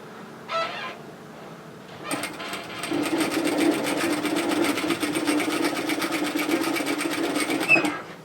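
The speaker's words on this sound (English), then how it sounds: "I'm going to stop with my needle down, lift my presser foot, turn and pivot so that I can go across the top of the back of my garment, and then just stitch again" A sewing machine runs steadily for several seconds, stitching across the back of a garment (a pair of relaxed bib overalls) after a pivot, with a brief soft handling sound before the motor starts and no talking.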